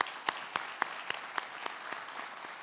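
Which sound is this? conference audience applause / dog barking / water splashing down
conference audience applause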